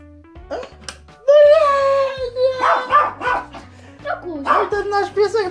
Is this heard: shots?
no